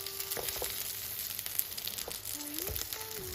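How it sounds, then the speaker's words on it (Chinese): Dough pieces pan-frying on medium heat until golden, a continuous close sizzle with faint intermittent clicks and a soft voice-like tone in the background. "接着开中火给它煎，把底部给它煎至金黄。"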